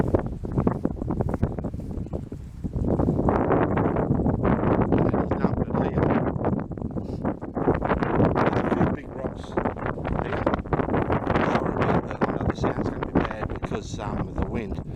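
Gusty wind buffets the microphone at a rock quarry's waste-rock area strewn with fine material, a loud, steady broadband rumble that barely lets up for the whole stretch.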